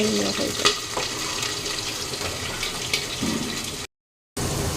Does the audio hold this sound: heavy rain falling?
no